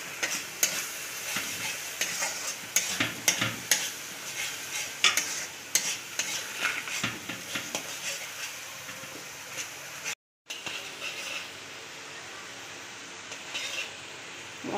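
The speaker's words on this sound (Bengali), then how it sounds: "আবার সব মশলা একটু কষিয়ে নিতে হবে।" Spices for katla fish biryani, with sugar, salt and yogurt, sauté in a pan under repeated stirring: rhythmic scraping and clinks over a continuous sizzle, briefly cut off, then resuming more softly.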